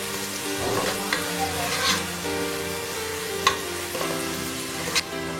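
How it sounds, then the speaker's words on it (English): Onion sizzles steadily in a hot pan for pasta, with a few sharp spatula scrapes and clinks over a low background hum, close and continuous without speech. "Let onion cook for a while."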